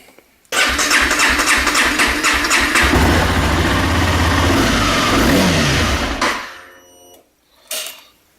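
A motorcycle engine cranks and fires, then settles into a loud, steady idle close by before cutting off, leaving a brief quiet with a short clatter at the end.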